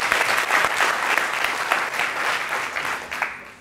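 Steady applause from a meetup audience honoring a sponsor, a dense patter of many hands clapping that gradually thins and fades toward the end.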